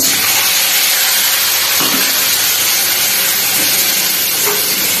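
Spices tempering in hot oil for ghugni, a loud steady sizzle and hiss close up, with faint stirring scrapes and no talk.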